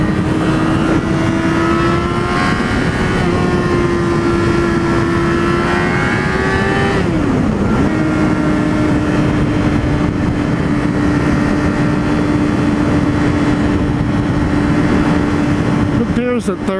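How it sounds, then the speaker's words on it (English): A motorcycle engine drones steadily while riding on a cold interstate, with a brief pitch dip around a gear change into fourth before the steady hum returns, under strong wind rush. "this is the first time I put this bike into fourth gear"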